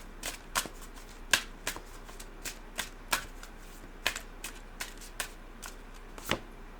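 Hummingbird Wisdom Oracle cards shuffled by hand, giving a steady series of crisp, close riffling snaps about twice a second, quiet and alone without speech.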